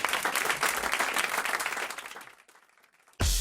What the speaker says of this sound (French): Applaudissements pour Monsieur Van der Nicht.